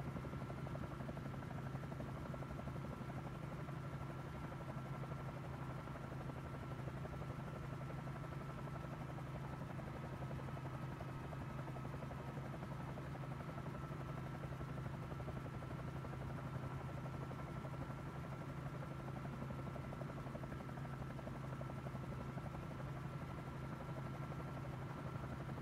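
A Bell 47J helicopter flies in Microsoft Flight Simulator near Vilo Acuna airport, its steady low rotor and engine drone humming evenly and continuously throughout with no talking.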